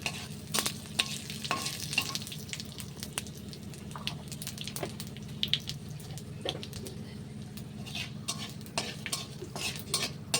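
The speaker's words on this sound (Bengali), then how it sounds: "এই তেলের মধ্যে একটু ফোড়ন দেব। এই 5 ফোড়ন আর তেজপাতা।" Panch phoron and bay leaf tempering sizzling in hot oil for a kul pickle, a steady crackling fry with repeated scraping and clinks of a spatula stirring in the pan.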